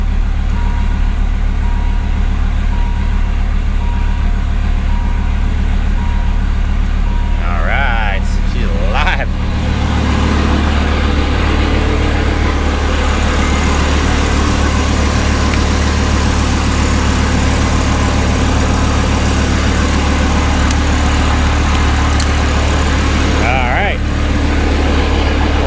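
A Dodge Viper ACR engine idles steadily and close by after its oil pan replacement, with a deep, even rumble running the whole time. Around the middle the idle settles a little lower, and a few brief clatters are heard along the way.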